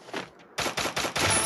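Rapid bursts of automatic gunfire from a shooting video game with a suppressed-weapon character, four loud close volleys in quick succession after a brief quieter stretch.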